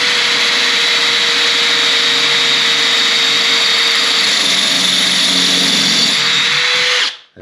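A power drill bores through wet bathroom wall tiles with a budget tile bit, a loud, steady, grinding whine running continuously for about seven seconds before cutting off.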